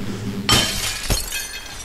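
Glass smashes in the ragdoll game Happy Wheels, first as a sharp, bright crash and then as a second heavier break about half a second later, with tinkling fragments trailing off alone.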